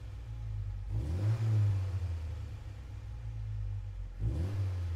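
Alfa Romeo Giulia engine revving in a racing video game, rising in two loud surges with a steady low drone between them, and no talk over it.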